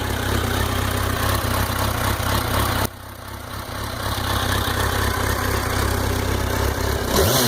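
A new 2015 Kawasaki Versys 1000LT motorcycle with its stock exhaust idles nearby with a loud, steady low throb that dips briefly once before returning to an even rumble.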